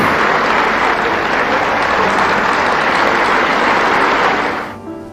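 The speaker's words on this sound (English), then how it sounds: "Prime Minister Narendra Modi introduced her as the gathering gave her a thunderous applause." Thunderous applause from a large audience at an investment and innovation summit in Gandhinagar, a dense, loud, sustained wash of clapping that fades out abruptly at the end.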